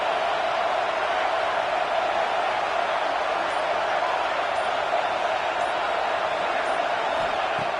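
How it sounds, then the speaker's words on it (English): Stadium crowd roar in a college football video game, a steady, dense wash of noise held at constant loudness throughout, with no distinct voices standing out. "This crowd is trying to inspire this defense to make a big red zone stop."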